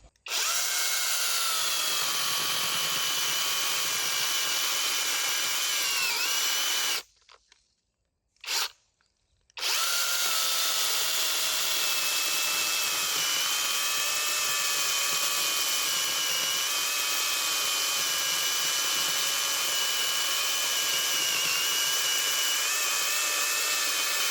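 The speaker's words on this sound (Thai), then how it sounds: "เนี่ยท่อนขนาดนี้เลยตัดได้ครับสบาย" A MASARU SCS-420 cordless electric chainsaw with a small bar cuts steadily through a large wooden log, a loud continuous whine broken by one short pause midway before resuming to the end.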